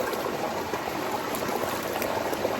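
A river with a stony, gravelly bed in Portland, Jamaica rushes steadily past, a continuous close hiss of flowing water with no breaks.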